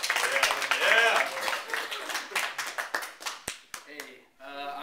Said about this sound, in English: Everyone give him a warm applause